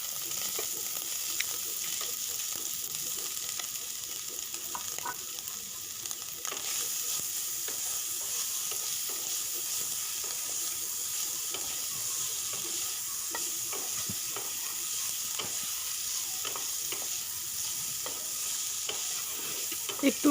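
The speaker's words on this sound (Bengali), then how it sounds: "তো কড়াই তেল গরম হয়ে গেছে, এবার সয়াবিনটা আমি এর মধ্যে ভেজে নেব" Soya chunks frying in hot oil in a kadai, giving a steady, continuous sizzle with occasional crackles and stirring scrapes throughout, with no voices.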